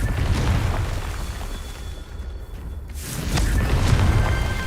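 Booming magical blasts of the Confringo fire spell in Hogwarts Legacy, a loud rumbling burst near the start and another heavier one after a brief lull, thick low-end impacts over continuous noise.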